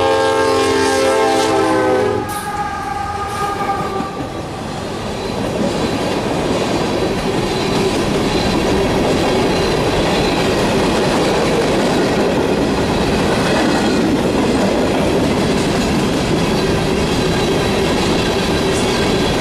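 A northbound manifest freight train passes a level crossing, opening with a loud horn blast and then a long, steady roar of wagons rolling by close up with rhythmic wheel clatter and faint squeal.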